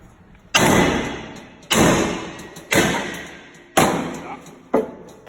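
A Halligan bar's adz is struck into a door on a forcible entry training simulator, five loud heavy impacts about a second apart, each with a short ringing decay.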